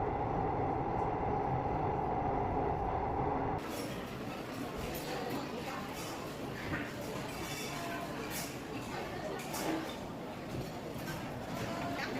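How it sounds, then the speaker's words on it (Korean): Airport railroad train running toward Seoul Station, with a steady rolling rumble and broadband rail noise that shifts after a few seconds, as if passing into a different section of track. Faint voices are heard. "공항철도 타고 서울역으로 출발하겠습니다"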